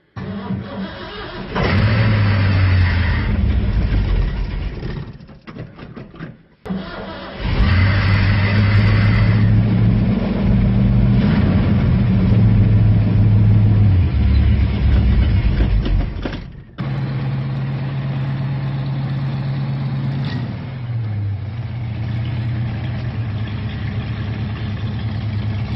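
A 1967 Ford Fastback engine cranks and fires up, then revs and settles into a rough idle, cutting out briefly and restarting, loud and close with no talk.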